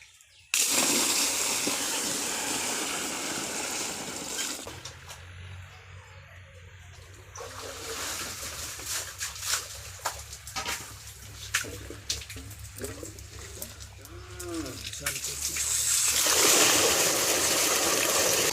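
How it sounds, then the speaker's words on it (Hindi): Water gushes steadily from a running tubewell outdoors, a loud rushing stream that fades and returns, with splashing and a person talking nearby during the middle stretch. "तो कुएं से पानी खींचने की ज़रूरत नहीं है क्योंकि ट्यूबवेल चालू हो चुका है।"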